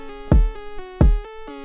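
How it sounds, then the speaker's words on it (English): A music beat built from a lightning-and-thunder-in-a-box sound: two heavy, booming low hits about a second apart over sustained, ringing synth-like tones, with softer clicks in between. "It's lightning and thunder in a box."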